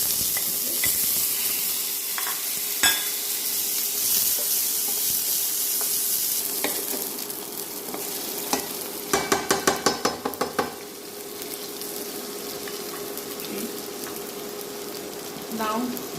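Green chilies and tomatoes frying together in a pan for an onion chicken gravy, a continuous close sizzle with a burst of rapid clattering stirs midway, then a steady simmering hiss.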